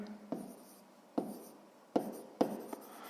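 A pen writes out a sixth-grade math solution on paper in four short bursts of scratchy strokes, close and fairly quiet.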